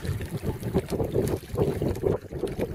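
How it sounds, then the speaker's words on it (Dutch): Water rippling and splashing in the wake of a longboat, a close, rhythmic lapping churn with gusts of wind buffeting the microphone. "Het vrolijk gekabbel wat u hier op de achtergrond hoort is het zog van Longboat Brave."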